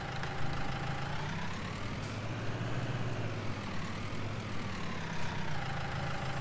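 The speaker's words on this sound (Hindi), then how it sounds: "अभी एक काम करते हैं, डिस्क हैरो खींच के देखते हैं, बड़ी वाली ये वाली फोल्डिंग वाली" Ford 3600 tractor engine in Farming Simulator 19, pulling a large folding disc harrow: a steady low engine drone with a gently rising and falling tone, continuous and fairly loud throughout, with no talking.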